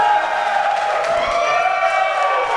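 Wrestling crowd at a tag-team match cheering loudly for Chase James, a sustained roar of many voices with whoops filling the space throughout.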